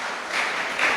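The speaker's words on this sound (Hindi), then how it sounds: "जोरदार गिरीश जी के लिए तालियां बजाइए" A burst of applause from a crowd, steady and loud clapping filling the whole moment.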